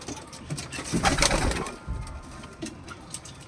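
A deshi Giribaj pigeon coos nearby as a male sits on its eggs, a short throaty swell of cooing followed by quieter murmurs and faint rustling.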